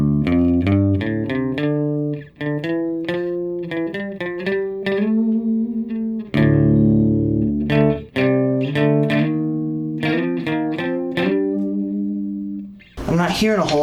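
Bass line played through a Sondery Chorus guitar pedal with all knobs at noon and distortion off, a steady sequence of plucked low notes with a shimmering modulated tone, closing in a brief noisy burst.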